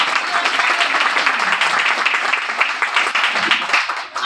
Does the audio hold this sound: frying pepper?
no